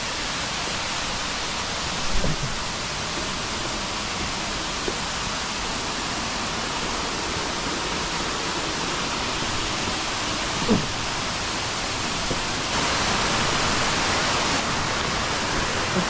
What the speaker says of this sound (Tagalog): Tuloy-tuloy lang ang tubig.